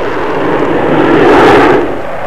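A Vickers Valiant, a British four-jet V-bomber of the RAF, flies past with a broad roaring jet rumble that swells to a peak and then eases, loud and steady with no talk.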